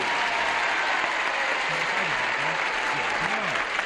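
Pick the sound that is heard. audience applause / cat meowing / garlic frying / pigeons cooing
audience applause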